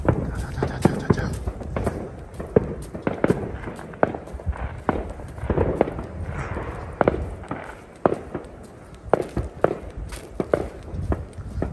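A long string of firecrackers popping at a village Chinese New Year celebration, sharp irregular cracks going on and on at moderate distance, with voices and movement mixed in.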